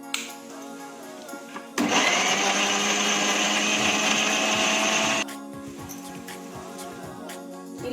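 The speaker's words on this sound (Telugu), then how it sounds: "ఉల్లిపాయలు, పచ్చిమిరపకాయలు వేయించే టైంలో మనం ఈ టమాటోస్ని గ్రైండ్ చేసుకోవాలి. బాగా ఫైన్ పేస్ట్లా చేసుకోవాలి." Kitchen blender grinding tomatoes into a fine paste, a loud whirring roar starting abruptly and running steadily for about three and a half seconds before cutting off, with a sizzling pan of frying onions and green chillies audible before and after.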